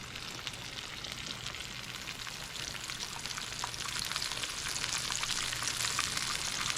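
Small chicken pieces fry in hot oil in a pan, giving a steady crackling sizzle with dense pops that grows slightly louder over several seconds.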